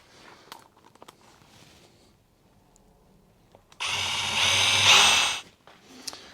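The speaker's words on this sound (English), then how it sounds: "So throw a couple screws in." A power drill drives screws into a DIY outfeed workbench for a SawStop Jobsite Pro table saw, one loud whirring burst of about a second and a half after quiet shop handling noises, no talking.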